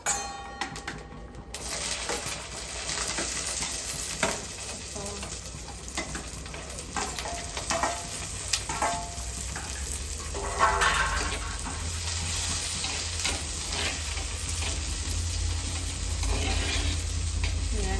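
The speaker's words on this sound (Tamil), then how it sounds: "அது பொரிஞ்சோடனே நாங்கள் வெட்டி வச்சிருக்கிறதுல கருவேப்பிலையை தவிர்த்து இந்த எல்லாத்தையும் போடுவோம்" Chopped ingredients for a papad curry sizzle and fry in hot oil in a pan, a steady close crackle with occasional stirring scrapes that runs without talk.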